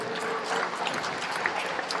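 A crowd applauds the organizing committee at a gathering, dense continuous clapping filling the whole moment with no speech.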